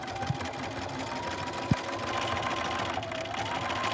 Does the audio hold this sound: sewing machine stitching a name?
yes